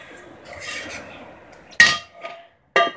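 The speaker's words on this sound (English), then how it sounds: "And now finally we're going to add in our fried mushrooms along with all the oil and spices." Fried mushrooms with oil and spices go into a risotto pan, heard as two sharp metallic clanks of utensil against pan with a softer scrape between them, preceded by faint rustling.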